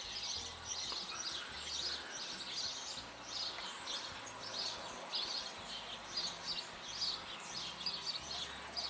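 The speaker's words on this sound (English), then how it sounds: "You can hear the birds." Birds sing around a farmhouse in northeast Ohio. Their chirps and tweets repeat quietly against a soft outdoor hum, with no voices.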